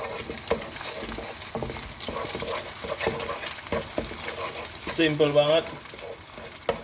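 Eggs being scrambled in a hot pan, a steady close sizzle under repeated spatula scrapes and stirs, with a short spoken remark near the end.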